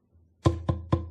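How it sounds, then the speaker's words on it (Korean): Three firm knocks on a door, close and loud, spaced evenly about a quarter second apart in an otherwise quiet room with no talking. "노크 소리가 나면 누구세요?"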